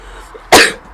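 A single sudden sneeze bursts out close and loud, broadband and sharp, then fades quickly into quiet room tone after a stray lavender bath-bomb scent hits the nose.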